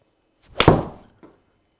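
A single sharp whack of a golf club striking a ball, followed by a brief whoosh and a faint thud moments later.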